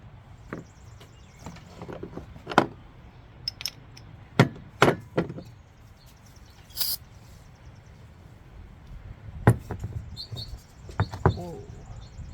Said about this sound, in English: It's nice hearing the birds again.